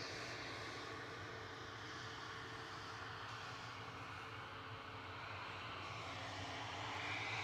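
Air France Airbus A220-300 taking off from Manchester Airport, a steady broadband engine roar that holds loud and even throughout, swelling slightly toward the end.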